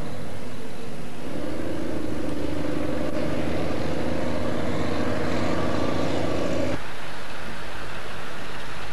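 Heavy lorries rumble at a motorway interchange construction site where loads of power station ash are being hauled, a steady engine drone with a rising mid-pitched whine that cuts off sharply near the end.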